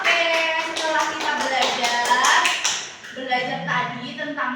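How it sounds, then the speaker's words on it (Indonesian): An elementary school class claps for a pupil, quick rhythmic claps blending with children's voices, followed by more chatter after the clapping fades. "tepuk tangan buat Mas Andika"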